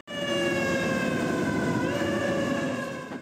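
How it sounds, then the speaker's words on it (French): An American fire truck siren wails steadily on a New York street, loud and continuous throughout with a slight pitch rise near the end over rumbling traffic. "on a vu notre premier camion de pompiers américain, et y a pas à dire, c'est vraiment la classe"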